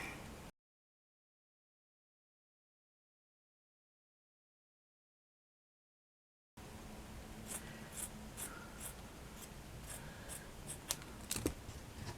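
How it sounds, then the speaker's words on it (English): Scissors cut through thin see-through craft fabric: after a short sound at the start and a long silence, a run of close, crisp snips and rustles follows. "It is see-through, this fabric, so you can easily cut it without a problem."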